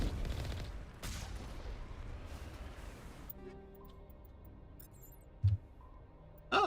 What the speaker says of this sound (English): Oh, an assault rifle.